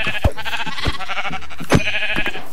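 Sheep in a blocky survival video game bleat in several short, loud calls alone, with no talk over them.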